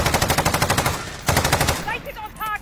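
Rapid bursts of PPSh-41 submachine gun fire in Call of Duty, a fast steady rattle for over a second, a short pause, then another burst, followed by short electronic game tones.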